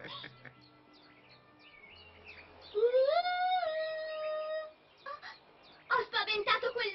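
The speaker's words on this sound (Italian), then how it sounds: "Ho spaventato quell'uccellino!" A small bird in an Italian animated cartoon chirps in a rising, sliding whistle near the middle, followed by a quick flurry of bright tweets at the end, with softer scattered effects before it.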